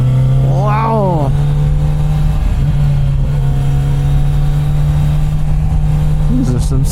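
Kawasaki motorcycle engine on the Apache Trail in Arizona, held in second gear with a loud, steady drone and rising revs, plus wind noise and a rider's voice over it.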